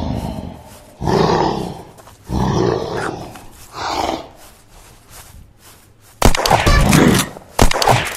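A mega zombie in the survival game Unturned lets out a series of loud, growling roars in repeated bursts, with a harsher, louder roar near the end.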